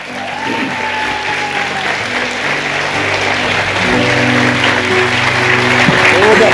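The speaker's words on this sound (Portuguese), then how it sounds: "Vamos aplaudir ao Senhor." Congregation applauding at a church celebration service, steady broadband clapping that swells slightly louder toward the end, with faint voices and a held musical tone underneath.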